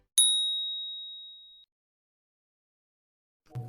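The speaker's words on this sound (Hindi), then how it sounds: "उसे रोजी का एक मैसेज दिखता है।" A single bright phone message notification ding rings out clearly, then decays over about a second and a half, followed by silence and a faint low thump at the end.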